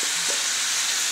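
Onion, carrots and other vegetables fry in a pan for chicken cacciatora, giving a steady, close sizzling hiss with no talking.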